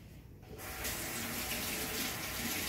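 Tap water running into a sink to wet cake bake-even strips, starting after a brief quiet moment and then flowing steadily and fairly close.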